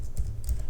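Quick keystrokes on a computer keyboard during coding, a few soft close taps in a short burst under a low steady hum.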